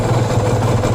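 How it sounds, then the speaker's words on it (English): A warmed-up stock motorcycle with a carbureted engine and a stripped carb jet idles at about 1500 rpm, a steady, loud, close low rumble with no voices. "Finally got her idling after she got warmed up."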